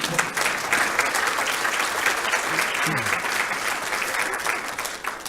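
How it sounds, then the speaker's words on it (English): Sustained audience applause at a talk honoring board members, a loud, dense clatter of many hands clapping close by for several seconds with faint crowd murmur underneath. "Could you help me applaud for them for their work?"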